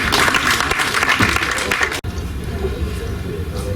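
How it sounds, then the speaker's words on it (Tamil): A crowd at the audio launch of the film Rajavin Parvai Raniyin Pakkam applauds the music group in a loud, dense burst that cuts off abruptly, leaving a quieter room murmur. "சோ மறுபடியும் ஒரு பெரிய கைத்தட்டல் கொடுத்துடலாமா இந்த வண்டர்ஃபுல் குரூப்."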